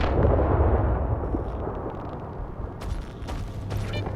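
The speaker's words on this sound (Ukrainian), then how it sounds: "Закидуємо гранату і чекаємо на манюню." A grenade goes off in the video game S.T.A.L.K.E.R. 2 with a heavy, rumbling boom that starts loud and slowly decays, followed by a few faint mechanical clicks and rattles.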